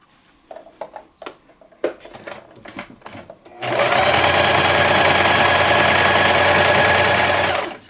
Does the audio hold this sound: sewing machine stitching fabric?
yes